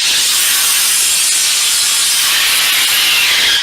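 Sulfur hexafluoride gas blasts from a tank in a loud, continuous, close-up hiss that runs steady for a few seconds before it cuts off.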